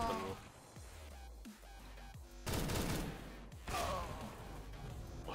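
Gunfire in the video game CS:GO, rapid bursts of shots crackling in two loud volleys with quieter shots between them, alongside breathy gasps and sighs.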